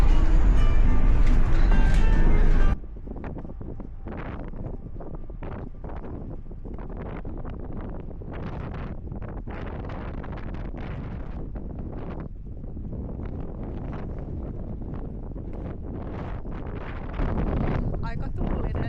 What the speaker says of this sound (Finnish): Aika tuulinen päivä.